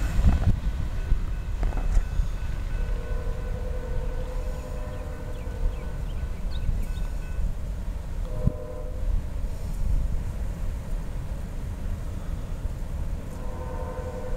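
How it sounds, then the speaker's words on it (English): Norfolk Southern train 192, led by locomotive 8047, departs northbound from Rock Hill, South Carolina on the R-Line, a steady low rumble of rolling cars with several sustained horn blasts cutting in over it. "that was NS Train 192, departing Rock Hill, South Carolina, heading northbound on the NSR line"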